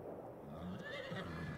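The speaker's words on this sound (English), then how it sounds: "and the horses" Horses in the Farming Simulator 22 video game, on a cold Saskatchewan farm, give a clear whinny over low background game sound, close and moderately loud.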